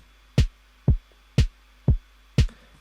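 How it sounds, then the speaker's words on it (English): A simple electronic beat plays alone: five strong, evenly spaced kick-drum hits with snappy snare tops, steady and upfront with nothing else underneath. "and then I had that with a snare on the 2 and 4s"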